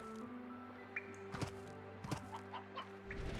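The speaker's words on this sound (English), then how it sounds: "Oh yeah, we'll take these hens." Hens clucking in the video game Slime Rancher, a few short soft clucks and squawks scattered over a low steady game soundtrack, quiet and without talk.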